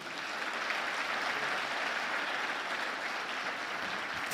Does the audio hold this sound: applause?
yes